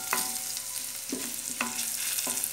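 Garlic fries in a pan for a croquette dough, a continuous close sizzle broken by repeated stirring scrapes about every half second, with no voices.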